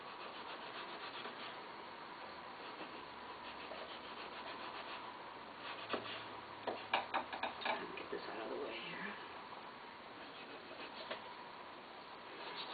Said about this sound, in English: with the serrated knife, you're sawing